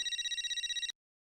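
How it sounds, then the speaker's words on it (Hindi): A telephone rings with a fast warbling electronic trill under one second long, then cuts off abruptly into silence. "किसका फोन है?"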